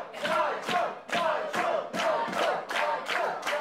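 A wrestling crowd cheers and chants in loud rhythmic bursts, roughly two per second, filling a live Evan Lee Utd. vs Hidden Idols tag match hall.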